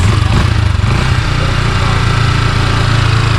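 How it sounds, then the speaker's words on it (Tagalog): A 2026 Yamaha Sniper 155 motorcycle engine idles steadily up close, a continuous low, even rumble with no voices. "Ganda ng andaran."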